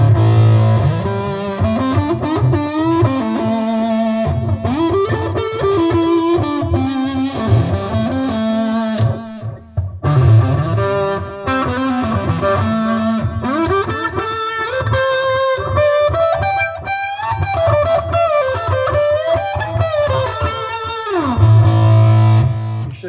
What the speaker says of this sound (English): Here's my fuzzy Excelsior with delay.